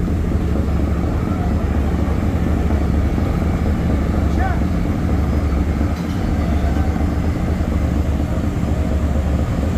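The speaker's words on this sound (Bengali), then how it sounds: "আমরা আওলাদকে ওভারটেক করতে যাচ্ছি" A bus on a Bangladeshi road to Barishal overtakes another bus, heard as a loud, constant engine and road roar from inside, with a brief voice rising above the drone midway.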